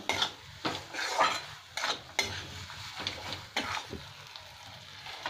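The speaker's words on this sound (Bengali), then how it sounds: "এবার আমি বেরেস্তাটাও দিয়ে দিলাম এক মুঠো। ভালো করে কষে নিতে হবে" Tomato and a handful of crisp fried onion stirred and sautéed in a pot for egg biryani, with a spoon scraping in repeated strokes over a soft sizzle, close and moderately loud.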